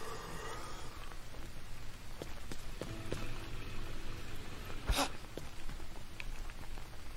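Steady, close rain in the jungle survival game Green Hell, a dense even hiss with one sharp crack partway through; no one talks.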